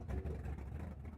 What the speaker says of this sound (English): Oh no, there is sound. Yeah, like the engine running.